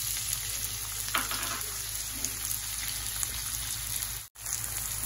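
Roughly chopped onion hits hot oil in a pan, giving a steady broadband sizzle with a few light stirring clicks, close and continuous with a brief gap near the end.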